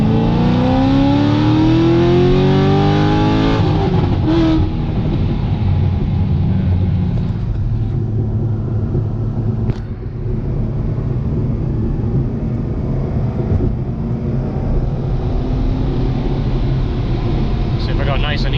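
Corvette Z06 engine and exhaust while driving, a loud rising rev with climbing tones early on, then a mellow steady rumble under continuous speech.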